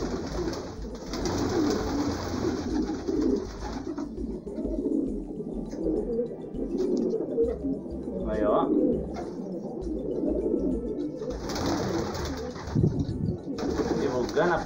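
Breeding pigeons coo in a loft by a fence in the afternoon, a continuous low murmur from many birds up close, with occasional chirps and someone talking over them at times.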